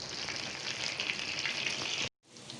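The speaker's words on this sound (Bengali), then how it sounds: "বাদামি কালার করে আমি ভেজে নিব। একটু সময় নিয়ে ভাজতে হবে" Chicken shami kababs fry in a pan with a steady, close, crackling sizzle, then a short silent gap before the sizzle resumes more softly. There is no talking.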